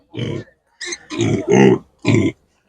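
Piglets at an animal market give five loud, close grunts in quick succession, separated by short silent gaps.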